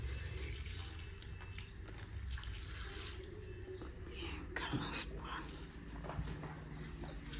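Steady running water splashes continuously, like a hose or tap pouring onto plants, with faint background murmur and occasional clatter.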